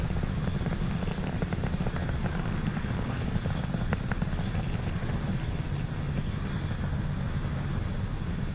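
Falcon 9 rocket engine roar during launch, a continuous low rumbling and crackling heard steadily and fairly faint, as if from a distance, with no other sounds standing out.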